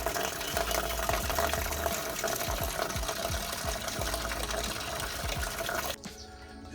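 Water gushes steadily into animal drinking containers on a Samoan farm, a continuous rushing pour that stops abruptly near the end.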